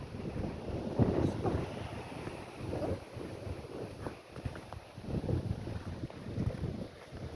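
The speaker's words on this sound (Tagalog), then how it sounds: "Grabe hangin dito mga kabayan." Strong wind roars and buffets the microphone in gusts, a steady rushing noise with no voices.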